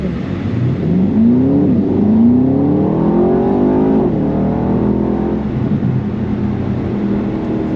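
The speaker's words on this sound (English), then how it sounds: "Oh, I love this rumble." A deep, throaty Porsche GTS sports car engine rumbles and revs close by, its pitch climbing and dipping in steady surges before settling into a loud idle.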